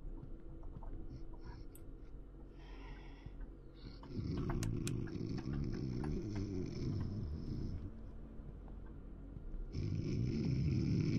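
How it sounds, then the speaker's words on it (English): Snoring from a sleeping dad in the horror video game Night Grove, slow loud rasping breaths in long cycles, close and rough, with brief game noises in between. "Whose dad's snoring?"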